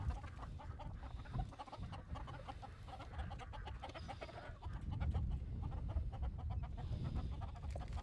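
Farmyard chickens cluck steadily in a morning coop, a busy layered chorus of short calls over low rustling and other fowl, close and moderately loud.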